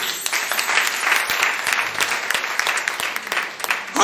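A church congregation at a Pentecost service claps and applauds the Lord, a steady broadband wash of many hands close by, swelling again sharply at the very end.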